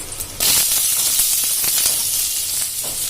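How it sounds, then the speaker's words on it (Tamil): Ginger, garlic and onion hit hot ghee with a sudden loud sizzle that settles into a steady, bright frying hiss, close up, with faint stirring clicks. "கீ ஹீட் ஆகிடுச்சு. நான் இப்போ இஞ்சி பூண்டு போட்டுக்கிறேன். வெங்காயம் போட்டுக்கிறேன்."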